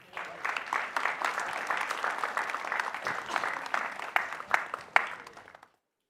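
An audience claps in sustained applause that swells and then tapers off with a few scattered final claps, steady and moderately loud.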